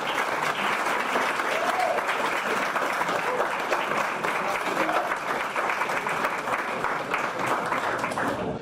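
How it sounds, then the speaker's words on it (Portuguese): Dense, sustained applause from an audience at a Brazilian talk welcoming a guest, a continuous wash of many hands clapping at even loudness from start to finish, with a faint voice briefly under it. "eu peço a vocês uma salva de palmas para ele"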